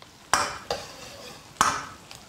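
A wok stir-fry of fermented black beans, Sichuan doubanjiang, scallion and ginger-garlic over low heat gives a soft steady sizzle broken by three or four sharp scraping stirs of the spatula.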